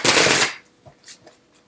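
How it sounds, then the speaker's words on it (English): Tarot cards being shuffled, a dense, loud riffling burst lasting about half a second, followed by a few faint taps and rustles of the deck. "So I'm going to shuffle again for this card"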